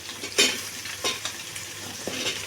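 Onions and peeled bottle gourd pieces frying in a pan as they are stirred, a steady close sizzle broken by three distinct scraping strokes of the spoon, no talking.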